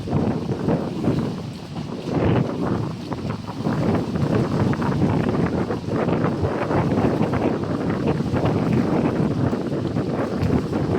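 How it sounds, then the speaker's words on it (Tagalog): Strong northeast monsoon wind roars steadily over the microphone, buffeting and gusting throughout with a constant low rumble, no voices. "Yan, katindi rin ang amihan."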